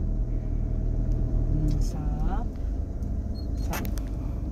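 Car engine accelerating gently uphill during a driving test in South Korea, a steady close rumble inside the car with voices talking over it.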